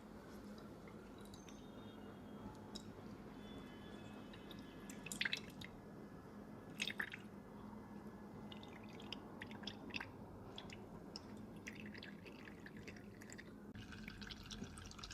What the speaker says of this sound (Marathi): ते आपण आता या कपड्यामध्ये हे करून त्याचे पाणी काढून घेणार आहोत.